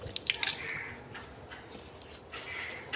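Water splashing and dripping as hands scoop water onto the face during wudu: soft wet splashes and squishy drips, close up and fairly quiet, with no speech.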